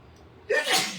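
A single sharp sneeze bursts out close and loud after a quiet moment.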